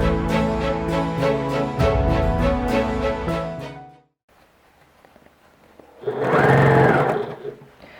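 A sewing machine stitches a checked autumn-winter vest dress along the 1 cm lining seam allowance, first a steady rapid whir of needle strokes, then a pause and a shorter loud burst of stitching.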